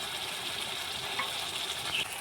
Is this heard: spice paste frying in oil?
yes